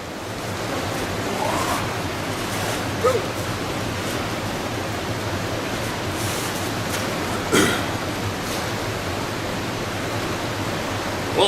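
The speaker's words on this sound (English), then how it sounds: "it's like a substantial waterfall right there" A substantial waterfall roars through river rapids in a close, loud and constant wash of broadband noise, with a few faint thumps and no voices.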